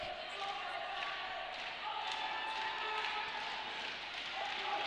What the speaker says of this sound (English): the crowd are taking this moment of downtime to be very loud